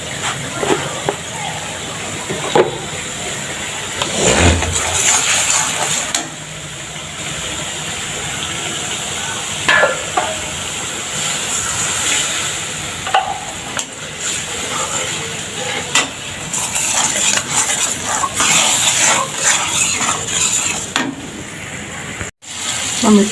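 Curry is stir-fried in a pan, with ongoing sizzling and intermittent scraping stirs over several seconds. Some louder bursts and clatter break in, and a voice talks at times.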